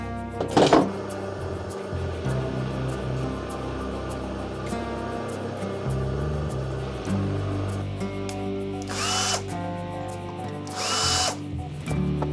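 A power drill boring a hole during the build of a camera stand, with a steady whirring motor drone throughout and brief higher bursts as the bit bites, loud and close with no talk.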